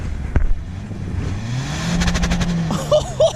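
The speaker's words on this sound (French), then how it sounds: "Mets-nous des coups de gaz là-dedans." A car engine revs hard on a snowy ridge, a rising, sustained roar with a thump at the start and brief voices near the end.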